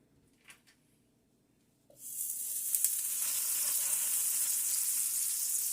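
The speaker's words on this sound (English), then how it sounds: "add your butter to a large pot" Butter melting in a large pot over very low heat, with a couple of soft knocks before a steady sizzling hiss starts abruptly and continues evenly, close and fairly loud.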